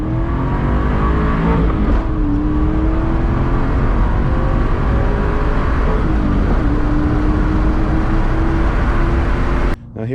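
A 1997 Ford Mustang SVT Cobra with its 4.6-liter quad cam V8 revs loudly and steadily up close, the pitch climbing and dipping across several throttle blips before cutting off abruptly at the end.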